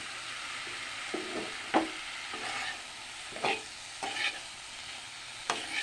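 Potatoes, cabbage and cauliflower are stirred in a pan, with soft steady sizzling and a handful of sharp scrapes and clacks from the spoon spaced irregularly across the stretch.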